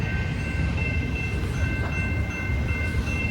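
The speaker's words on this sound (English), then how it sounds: "we're still waiting for the train" A train rolls past at a railway crossing with a steady, loud low rumble of wheels and cars, and thin high warning tones ring continuously above it, no voices.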